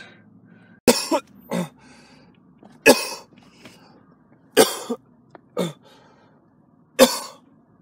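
Harsh, wet coughing fits after choking on a drink come in several separate bursts, each a strong cough with a smaller follow-up, close by, with quiet breathing between them.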